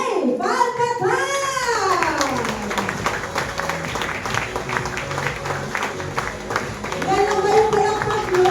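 Audience clapping at a product training session, a crowd applauding steadily while a voice calls out with rising tones at the start and again near the end.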